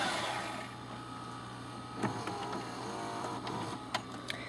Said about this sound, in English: That thing fast forwards so fast.